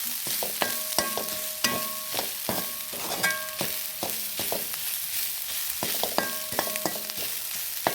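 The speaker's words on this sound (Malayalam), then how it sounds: "ജസ്റ്റ് ആ ചൂട്ടിൽ തന്നെ കുറച്ച് നേരം ഒന്ന് മിക്സ് ചെയ്ത് കൊടുക്കുക" Banana blossom thoran with grated coconut stirred in a hot pan, a spoon scraping and clinking against the metal in quick irregular strokes over a soft sizzle, close and alone.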